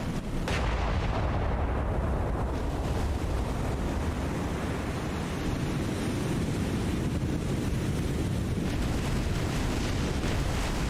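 Naval artillery in the War on the Sea video game against a Yamato-class battleship: a sharp blast at the start, then a long rumbling roar with wash and wind-like noise as the sound rolls on.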